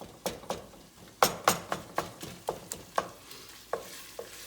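Ground taco meat fries in a pan while being stirred and turned until well done, a soft sizzle under a rhythmic run of about a dozen sharp utensil scrapes and taps.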